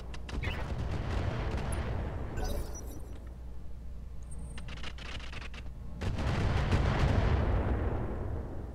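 Mech weapons firing in a Roguetech BattleTech battle, with heavy booming shots and rumbling impacts, a quieter lull in the middle, then another loud barrage swelling near the end.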